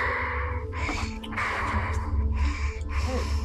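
A voice imitates the heavy, masked breathing of a baron, with four loud rasping inhale-exhale cycles in a slow, steady rhythm, close and prominent.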